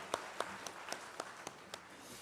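A church congregation during an Advent service claps in thanks after the choir's Christmas praise song: a faint, sparse series of separate handclaps in a steady rhythm, about four per second, with no voices.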